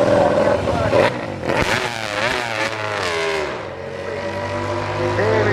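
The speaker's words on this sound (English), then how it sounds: "that's Kevin Schwantz riding his 1993 RGB 500 two-stroke" A 1993 RGB 500 two-stroke racing motorcycle ridden at the 2023 Goodwood Festival of Speed, its engine loud and close, revving up and down in rising and falling sweeps throughout.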